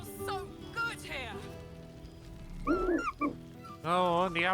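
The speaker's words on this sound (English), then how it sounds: "Scratch barks merrily in something like agreement." A dog in the fantasy role-playing game Baldur's Gate 3 barks and yips merrily in a few short bursts, with whimpering tones between them, set among game ambience and music.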